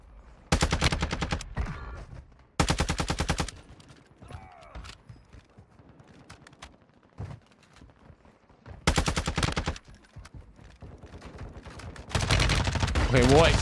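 A Hemlock rifle fires in a video game, sounding as several loud bursts of rapid shots separated by quieter stretches with faint game noises.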